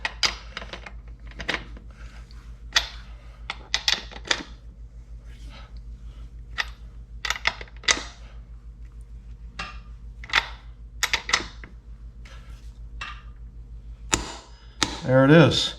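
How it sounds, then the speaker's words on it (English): A torque wrench tightens the rear axle bolt on a Triumph Scrambler 400X motorcycle, making a series of sharp, close ratcheting clicks in irregular bursts. A louder flurry of clicks comes at the end. "Got my torque wrench set to the proper spec."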